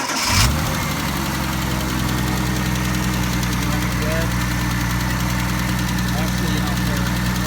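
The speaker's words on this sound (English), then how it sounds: "Start up the engine" Engine of an old bright Ferrari-red car, repainted around 1987-88 and unused since winter, cranking briefly then settling into a steady, loud, close idle with a rough knocking rumble, talk faintly underneath.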